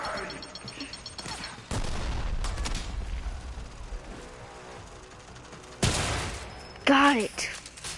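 Gunfire and explosions in the video game Warframe: bursts of shots and sharp blasts over a constant noisy battle background, with a player talking at times.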